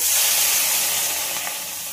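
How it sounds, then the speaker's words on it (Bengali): Water poured into a pan of well-sautéed cumin and coriander spice paste for an eggplant and egg curry, giving a loud, steady hiss of sizzling that eases slightly over two seconds, with no voices. "এবার পরিমাণ মতো জল দিয়ে দেবো"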